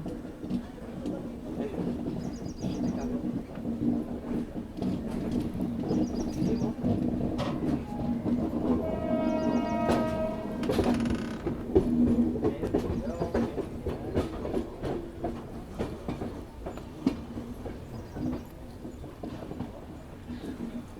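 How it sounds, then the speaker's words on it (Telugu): The 12771 Raipur SF Express rolls over a diamond crossing, a continuous rumble with repeated clickety-clack wheel beats over the rail joints, heard from inside the train with faint voices. "సో డైమండ్ క్రాసింగ్ అయితే క్రాస్ అయినామండి"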